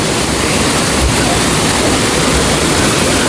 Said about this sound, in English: And here's the Hidden Falls.